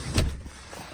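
A 2019 Volkswagen Passat Highline 4Motion tailgate swings shut with one close, solid thud followed by a quick fading mechanical settle.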